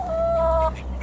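A single chicken gives a short, close, tonal cluck in a backyard smallholding, one brief call over a low background hum.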